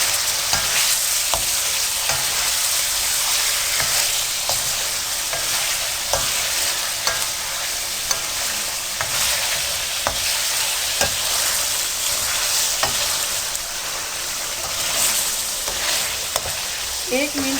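Garlic paste frying in a chicken karahi, sizzling loudly and steadily with repeated scraping and stirring strokes against the pan, no voices over it.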